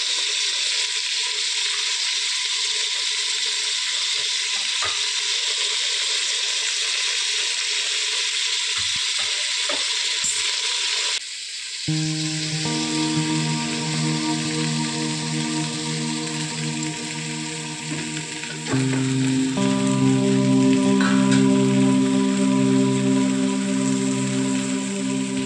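Onion, tomato and mutton pieces fry in a pan, giving a steady loud sizzle that shifts and intensifies midway as new ingredients go in, with no talking.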